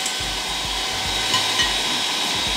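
An electric mixer whips egg whites for a chocolate cotton cake, a steady loud whirring drone with faint rhythmic knocks of beaters against the bowl.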